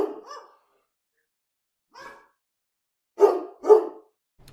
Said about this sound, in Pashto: سپي مې نه پرېږدي